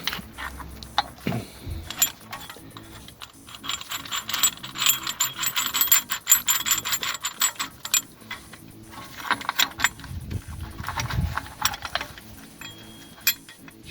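Clicking ratchet and metallic mechanism sounds during pressing back the front brake caliper piston on a VW Passat B8, with irregular bursts of clicks and clatter, close and fairly loud, no talk.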